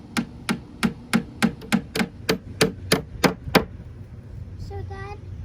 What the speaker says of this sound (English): We use a hammer to get the tack nails into the wood.